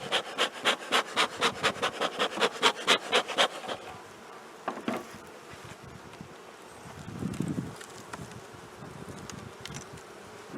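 Honeybees buzz in a spring hive opened for inspection, the first seconds carrying a loud pulsing drone in rapid regular bursts, then a softer, steadier hum with light handling rustles and a brief puff of a smoker.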